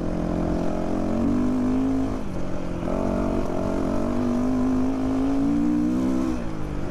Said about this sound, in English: Man, I love the sound of four-stroke though. Just so meaty.